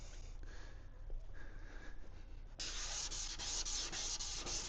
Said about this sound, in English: If you still see scratches, you still need to keep on sanding.